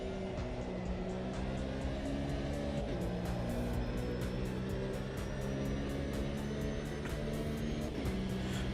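Race car engine in the Automobilista 2 racing game, a continuous loud droning whine held steady at high revs for the whole stretch, with no talking.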